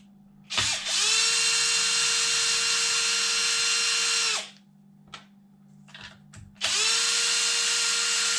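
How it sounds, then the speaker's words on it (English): A power drill whirs loudly for several seconds, pauses amid light clatter, then spins up again, close and steady, while removing a top plate from an Arrma RC car. "Definitely faster with the drill."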